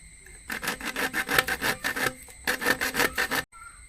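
A plastic broom being cut along its side, giving close rasping, sawing strokes in two bursts with a short pause between them, and no talking.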